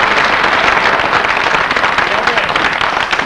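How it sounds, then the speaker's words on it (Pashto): Comedy show audience in Quetta clapping and cheering for a Pashto comedian, dense continuous applause at steady loudness throughout with no pauses. "چک چک یې وکړئ"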